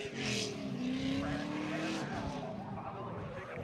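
Race cars drifting past a cone at a Klutch Kickers round-one drift event, engines roaring steadily close by with a brief tire squeal as they break into the slide.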